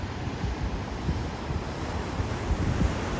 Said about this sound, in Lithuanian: Ir va dabar bus viena banga paskui kitą.